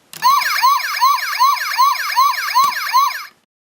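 Electronic siren from a Transformers Animated Bulkhead leader-class toy, a loud, close, rapidly wailing tone cycling about eight times over three seconds before cutting off abruptly.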